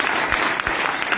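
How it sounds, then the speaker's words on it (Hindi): An indoor audience claps loudly at a direct-selling event, a dense, continuous burst of applause heard close and alone. "एक बार जोरदार ताली"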